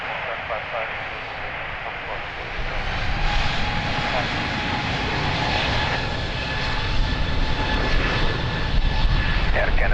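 Airliner engines at Lisbon Airport make a broad, steady roar that swells slightly partway through, heard beneath continuous air traffic control radio talk.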